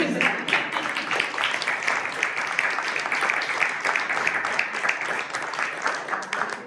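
Audience applause at a book launch for "Niña Vieja. La negra, la blanca y la mora," a steady, dense wash of many hands clapping throughout, moderately loud and fairly close, with some voices mixed in.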